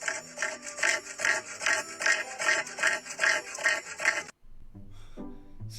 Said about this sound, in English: I would forgive everything, like literally everything about the cassowary, if they didn't sound like this.